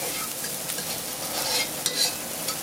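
Garlic sizzling in a pot for a curried wild meat dish of armadillo, with stirring scrapes over a close, steady frying hiss and a few sharper spatters near the end.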